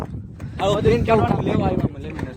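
Strong wind buffets a microphone outdoors, giving a continuous low rumble beneath a person speaking loudly and close.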